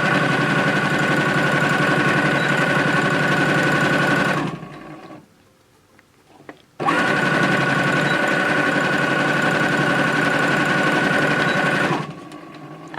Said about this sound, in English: This will get you used to sewing and back tacking without stopping.